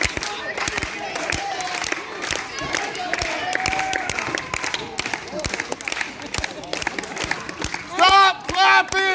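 A crowd at an HCW Vendetta tag team wrestling title match claps steadily, with shouting voices layered over it and a louder burst of cheering near the end.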